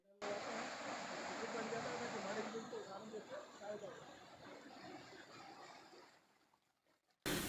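A 5 hp motor turns a ship propeller inside a 200 cubic metre biogas plant, churning cow dung slurry into water. It makes a steady, close, hissing wash that slowly thins before stopping abruptly, with voices faintly beneath.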